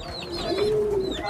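A racing pigeon in a breeder's loft coos in a soft, low, drawn-out call, close and clear, with faint background bird chatter and no talking.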